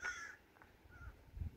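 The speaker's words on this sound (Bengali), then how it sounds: "ওই যে দূরে কয়েকটি কাক তৃণবনে বসে আছে।" Crows sit in the grass at Cleadon Park and give a short, faint caw near the start and another soft call about a second later, heard from a distance over quiet outdoor background.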